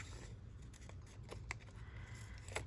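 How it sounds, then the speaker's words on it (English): Scissors snip loosely around a paper figure in a quiet room, making a few faint, sharp clicks spaced unevenly over a soft background. "Cut him out loosely real quick."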